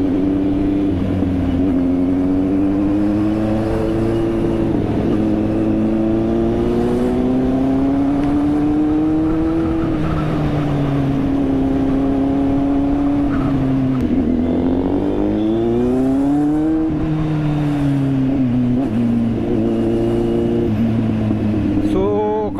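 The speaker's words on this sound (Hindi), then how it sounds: "स्लिप ऑन एग्जॉस्ट भी इसका चिंगाड़े मार रहा है एकदम।" A Kawasaki Z800 motorcycle fitted with a slip-on exhaust, ridden on a highway in traffic, gives a loud, continuous engine drone that rises and falls with throttle for the whole stretch, with a voice talking over it.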